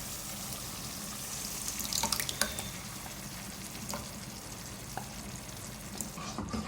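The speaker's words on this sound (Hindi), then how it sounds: "मिक्स करेंगे इसको।" Thick butter chicken sauce sizzles steadily in a pan as a spice paste goes in after garlic, ginger and Kashmiri red chilli, with a few sharp clinks of a spoon against the pan and no talking.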